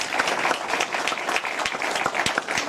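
Applause from a debate audience, dense steady clapping held at an even level for a few seconds, with no speech over it.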